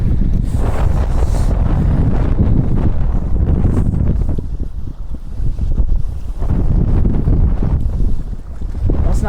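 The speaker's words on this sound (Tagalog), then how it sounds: "Lakas ng hangin" Strong wind roars and buffets the microphone aboard a small fishing boat at sea, a loud, constant rushing with gusty surges, while water sloshes against the hull underneath.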